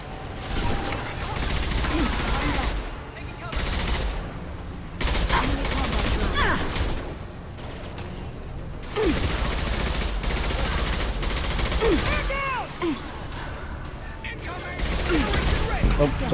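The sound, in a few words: gunfire in video game Mass Effect 2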